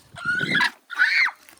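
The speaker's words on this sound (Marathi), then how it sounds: "देशी गावरान कोंबड्या." Native village hens cluck twice in close succession, loud and near, with no other sound around them.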